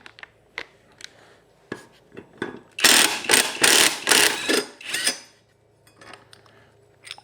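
Socket wrench loosening the blade on a Toro walk-behind mower, with close, rapid ratcheting clicks in a loud burst and scattered metallic clinks around it.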